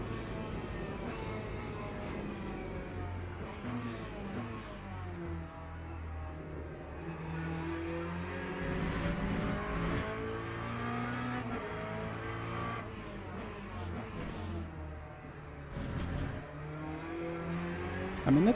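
A Porsche race car in a racing video game, its engine revving up and down through gear changes with occasional tire squeal, steady and moderately loud throughout with no voices.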